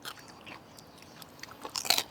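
Crunchy lechon horno, Filipino roast pork from Tondo, Manila, being bitten and chewed. The crisp crackles are faint at first, then grow into louder, close crunches near the end, with no talking.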